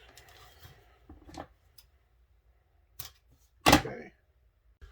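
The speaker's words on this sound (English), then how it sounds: "you can cut it with just a normal pair of scissors" Ordinary scissors snip 16 gauge wire from a coil, giving a few sharp isolated clicks and snaps, the loudest near the end, against near silence.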